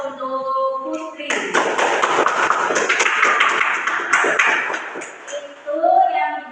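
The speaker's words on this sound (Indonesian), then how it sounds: "Beri aplaus untuk Putri." Students in a classroom applaud a classmate named Putri, a burst of many hands clapping that rises after a teacher's voice, holds for several seconds, then fades back into speech.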